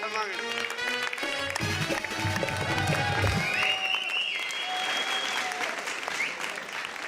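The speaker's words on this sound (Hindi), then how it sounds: "तालियां।" An audience at a comedy show breaks into sustained applause after a performer finishes: dense, continuous crowd clapping, fairly distant, with voices and some tonal background sound running underneath.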